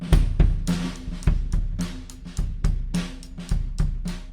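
A drum pattern struck with stick tips, lighter and less punchy, a quick run of hits with a bright cymbal wash throughout.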